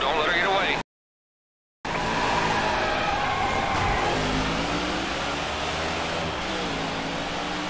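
Race cars in the NASCAR 2013 video game roar around the track with engines whining and tires squealing, a loud continuous racing drone broken by a brief silent gap, while someone talks over it.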